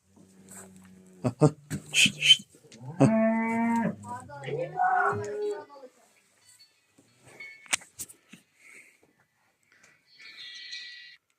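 Two drawn-out moos from Charolais calves nearby, followed by quieter scattered noises and a faint high tone.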